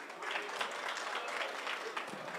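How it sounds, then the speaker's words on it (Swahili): Applause at an outdoor county security forum in Migori Town, a steady patter of many hands clapping for the whole short stretch, moderately distant with crowd noise underneath. "makofi kwake"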